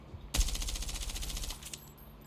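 A single loud burst of rapid automatic gunfire in the Call of Duty Mobile video game, about a second long, close and with no talking.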